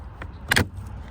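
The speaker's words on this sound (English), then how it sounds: "So the first thing we're going to do is just pop out this piece right here." A plastic trim piece popping free from the door panel of a 2015-2020 Chevy Suburban, with a light click followed by one sharp snap, close and brief.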